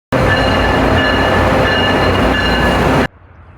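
A train at a train station rumbles loudly and steadily close by with a constant rolling roar, then cuts off abruptly into faint background noise.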